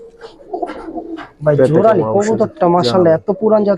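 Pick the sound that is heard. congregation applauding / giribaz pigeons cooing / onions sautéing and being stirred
giribaz pigeons cooing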